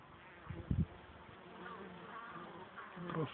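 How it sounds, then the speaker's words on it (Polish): Honeybees buzz at a hive entrance, a soft continuous hum with a few louder passes close by, fairly faint overall. "Czasem widać jakąś pszczołę,"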